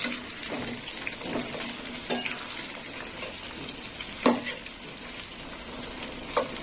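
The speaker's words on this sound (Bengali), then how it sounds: "এই দেখুন বন্ধুরা, পটলগুলো এইরকম ভাজা হবে, একটু অল্প ভাজা হবে।" Pointed gourd (potol) fries in a pan, giving a steady, fairly quiet sizzle with a few sharp clicks and scrapes of a utensil stirring at intervals, and no voices.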